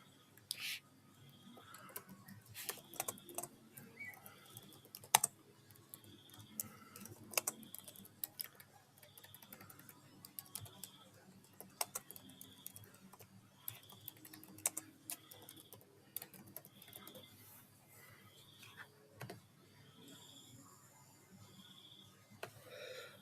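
Soft, uneven clicking keystrokes on a computer keyboard tap away in quiet bursts and pauses, with faint intermittent ticks between them and no speech.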